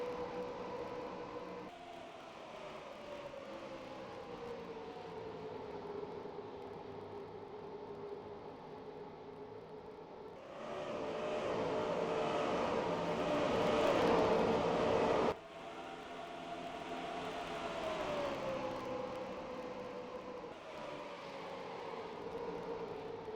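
Race car engines during the 2003 MG Cup Series season finale at Homestead-Miami, a continuous droning roar of cars passing the microphone, swelling louder in the middle before dropping back to a steady hum, with no talking.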